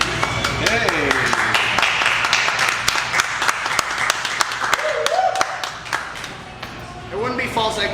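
Impromptu clapping from a small group during a casual interview with a West Virginia mathcore band, a steady run of sharp hand claps close by that mixes with people talking.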